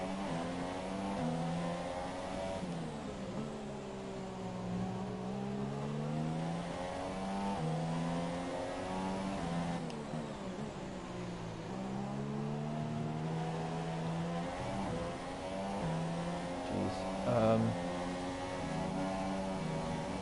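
A Formula 1 race car engine in F1 2017 on PS4 revs and drops in repeated rising and falling sweeps as the car shifts and brakes, a steady continuous whine with no talking.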